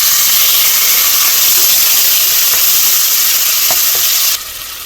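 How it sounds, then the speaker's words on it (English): Tomato frying in a pan with browned ginger and onion for a shrimp spinach soup, a steady loud hiss and sizzle with faint stirring clicks, dropping quieter near the end. "I'm ready to fry the tomato."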